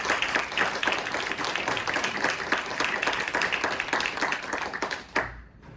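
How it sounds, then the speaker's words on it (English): Audience applause at an event in the Idaho State Capitol in Boise: steady, dense clapping from a roomful of people that holds for several seconds, then drops off abruptly near the end. "a round of applause I think is totally appropriate"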